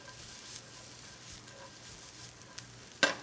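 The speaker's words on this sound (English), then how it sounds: "You hear the sizzle?" Garlic sizzling in a pan while beef patties are prepared, a faint, steady hiss with a few sharp ticks, close by and alone.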